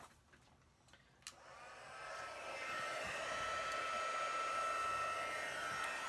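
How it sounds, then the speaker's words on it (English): Heat gun switched on to melt embossing powder, a few clicks and a brief pop giving way to a steady, fairly faint blowing roar that holds to the end. "I'm going to turn on my heat gun"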